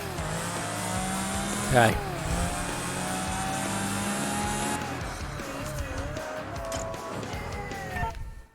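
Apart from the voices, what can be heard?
orange McLaren car engine in Project Gotham Racing 3 video game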